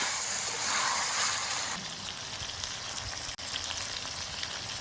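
Rooster meat sizzles and fries loudly in a pan as turmeric and chili powder go in, a dense crackling hiss that settles slightly quieter partway through, with a brief clatter near the end.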